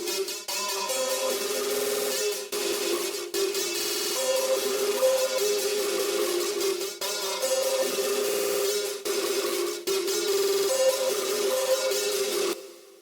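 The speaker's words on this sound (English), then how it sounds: "Here's what lead pattern sounds like." A Serum synth lead preset from the Trauma Serum bank, run through a loop effect, EQ and a left-right panner, plays a bright, sustained melodic pattern with brief dropouts, steady and loud on its own in a beat.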